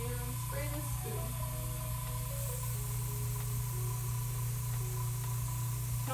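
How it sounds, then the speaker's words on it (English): Paint sprayed from an airbrush onto a sanded test spoon during garage kit model building, a steady close hiss running the whole time over a constant low compressor hum. "And spray this spoon."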